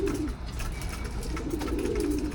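North Derby flyer pigeons coo steadily at an old loft, a low continuous murmur of overlapping calls close by with no talking.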